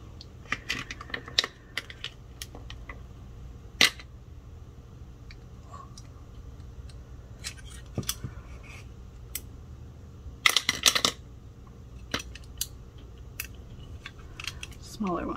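A small nail tip cutter with a magnetic metal guide snaps through artificial nail tips in a few sharp, close clicks scattered across a quiet background, with one cluster of quick snips near the end.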